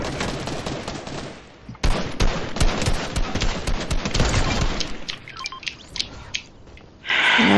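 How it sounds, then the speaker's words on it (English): Video game gunfire, rapid bursts of automatic shots crackling loudly in dense clusters, broken by a brief pause and ending in a harsh noisy burst. "Somebody else shooting?"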